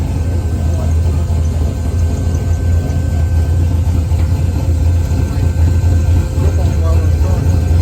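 A race car idles steadily at close range, its fuel pump droning louder than the engine's quiet, even low rumble, with people talking nearby.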